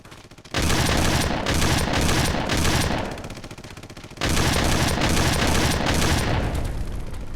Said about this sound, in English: everyone running around shooting at each other and blowing through parts of the environments